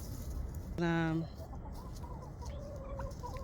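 Backyard hens, including a molting buff Orpington, give one loud close cluck-squawk lasting about half a second, followed by softer intermittent clucks in the background.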